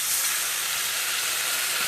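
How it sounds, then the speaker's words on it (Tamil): Dissolved tamarind water is poured into a hot pan for a Tamil kuzhambu and sets off a loud, continuous hiss and sizzle that stays close and steady throughout, with no talking. "நம்ம புளி கரைச்சி ஊற்றிக்கலாம்."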